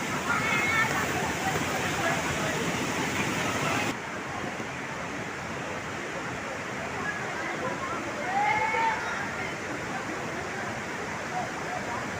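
Water rushes steadily at Wawa Dam in Montalban, Rizal, a constant broad roar that fills the whole stretch, with faint voices in the background.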